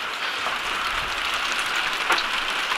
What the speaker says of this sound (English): It's raining. I'll show you it's raining.